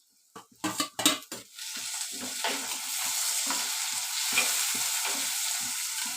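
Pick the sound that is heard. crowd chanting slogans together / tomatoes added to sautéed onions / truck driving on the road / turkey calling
tomatoes added to sautéed onions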